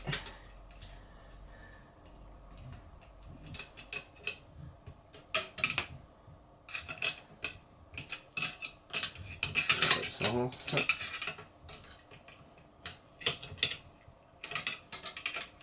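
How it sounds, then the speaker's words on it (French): Wrench tightening the eccentric nut on an ATOMSTACK A5 20W laser engraver during assembly, heard as close, irregular metallic ratcheting clicks and clanks in short bursts over a quiet room. "il faut que je resserre un petit peu celui-ci, parce que j'ai un petit peu de jeu comme ça. Je vais tout de suite mettre le coup de clé."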